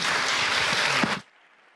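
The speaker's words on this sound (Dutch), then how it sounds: "En een hartelijk applaus nogmaals voor filmmakers." Audience applause for filmmakers at a film screening and panel talk in De Balie, a loud, dense clapping of many hands that cuts off sharply after about a second, leaving near silence.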